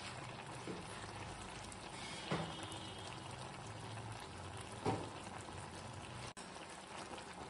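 Long bean and potato curry bubbling in a pan, a steady close simmering hiss with a few louder pops and splutters, no voices.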